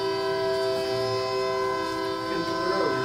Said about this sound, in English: Now the train.